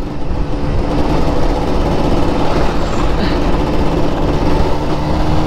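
A Kawasaki Ninja RR two-stroke motorcycle engine idles and revs close by, a loud, rough, buzzing rattle that stays continuous throughout.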